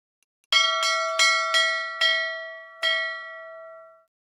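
A bell rings in the video game Ylands with six clear, resonant strikes at uneven intervals. Each tone rings on and slowly fades, and the last strike decays fully into silence.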